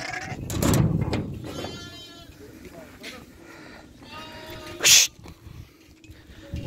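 Lambs and sheep in a barn bleat several times at close range, with a sharp burst near the end, while someone talks over them and the barn hums in the background.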